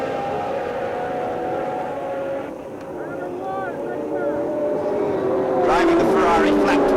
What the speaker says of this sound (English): Driving the Ferrari flat 12, about 500 brake horsepower.